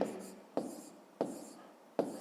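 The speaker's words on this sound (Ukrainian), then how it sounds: "Пишемо" A pen writes math on paper in short scratchy strokes, four soft taps each followed by a brief fading scrape, close and quiet.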